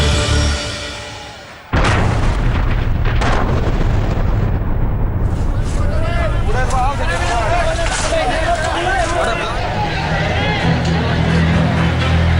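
An LPG cylinder blast at a roadside hotel in Madhya Pradesh, where travellers were having morning tea: a sudden loud burst after a brief quieter stretch, followed by sustained roaring noise and crowd commotion with voices crying out.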